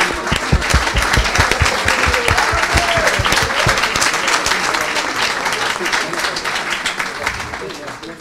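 A church congregation breaking into loud, sustained applause to acclaim the Lord. At first the claps come as rhythmic, unison beats, then they blend into a dense wash with voices mixed in.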